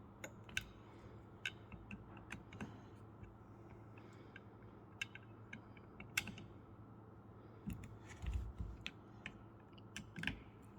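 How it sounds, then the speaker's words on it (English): A screwdriver turns screws tight on a Mobishear shearing handpiece in a quiet setting, giving faint scattered clicks, creaks and small metallic ratchet-like ticks with brief pauses between them. "Push down on your screwdriver as you're tightening so you don't burr the screw"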